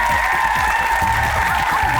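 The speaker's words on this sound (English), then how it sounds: "Give him a round of applause." Dense, steady applause and crowd noise at an aggressive inline skating showcase, filling the whole short stretch at close, even loudness.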